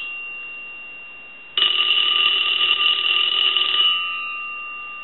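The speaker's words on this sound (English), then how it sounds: "So we'll go ahead and ring the telephone." An Automatic Electric Space Saver 83 Art Deco telephone rings its bell in one steady, loud burst of about two seconds after a quiet stretch, then falls silent with a faint hum remaining.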